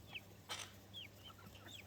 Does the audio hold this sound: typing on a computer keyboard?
no